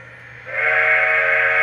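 The steam whistle of a Lionel Great Northern 1385 Pacific model locomotive starts softly, then swells into a loud, sustained chordal tone held to the end, with a faint low hum beneath.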